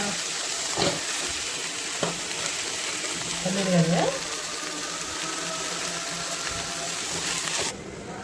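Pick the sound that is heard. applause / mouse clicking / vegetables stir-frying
vegetables stir-frying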